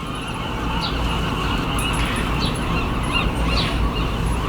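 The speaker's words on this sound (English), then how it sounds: "Just the seagulls." Seagulls calling at the seaside in the early morning, a few short cries spaced apart, fairly distant, over a constant low wash of background rumble.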